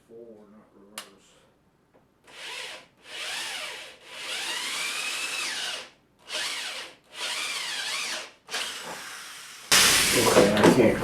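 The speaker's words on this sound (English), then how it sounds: "Drill needs to be going forward, not reverse." A power drill bores a hole through wood with a backing block behind it, whining in several bursts of a few seconds each with short pauses between, then a louder, harsher grinding burst at the end.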